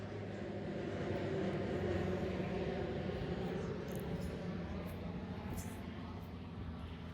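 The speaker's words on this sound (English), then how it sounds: "bear with me where the airplane goes by, and I'll talk after the airplane" An airplane passes overhead outdoors, a broad, steady engine roar that swells slightly and slowly fades, heard alone with faint bird chirps above it.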